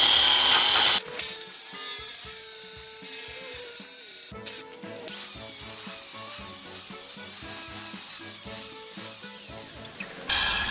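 A power tool grinds rust off the side sill of a Mazda Roadster, a harsh whirring scrape with a wavering motor tone that starts, breaks off briefly and resumes steadily at close range.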